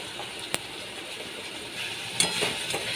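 A paste of tomato, onion, ginger, green chilli and garlic with salt is sautéed in a pan for a rohu yogurt curry, giving a steady close sizzle with a couple of sharp utensil clinks and scraping stirs.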